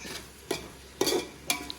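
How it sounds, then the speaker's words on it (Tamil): Onions and tomatoes sauté in sesame oil for a Tamil Nadu style fish kuzhambu, with three sharp spoon-stirring scrapes against the pan over a faint sizzle. "கேப்லேயே நான் வெங்காயம் தக்காளியெலாம் வதக்க ஆரம்பிச்சிட்டேன்"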